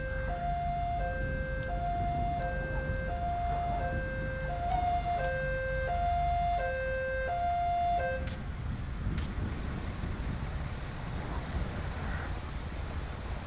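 Ambulance siren in Grand Theft Auto V, a two-tone wail that alternates steadily for about eight seconds over traffic rumble, then stops, leaving road noise.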